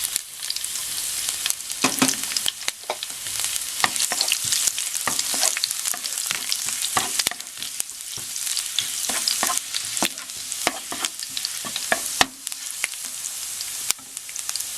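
Garlic sautéing in hot cooking oil for tortang giniling, a loud, continuous close sizzle and crackle broken by scraping stirs of a utensil in the pan.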